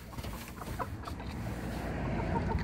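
Several hens in a backyard coop cluck softly amid a steady farmyard background, low murmuring calls scattered through the clip at moderate distance.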